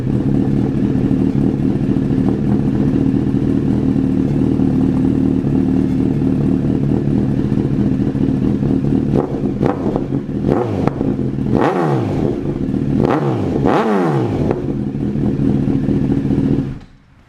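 A 2007 Honda CBR1000RR fitted with a Toce T-Slash exhaust, warmed up and running loud and close, holding a steady rumble before several sharp revs up to about 5,000 RPM near the end, then cutting off.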